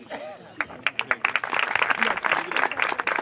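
Applause from a church congregation for an honoured doctor during a service, a burst of hand claps that starts scattered and swells into steady, fairly close clapping over about three seconds.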